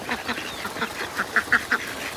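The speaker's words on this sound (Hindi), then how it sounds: "वैसे एक डक नजर आई है" A black duck quacks in a short run of four or five nasal calls near the middle of the clip, set against a busy farmyard murmur with other birds faintly in the background.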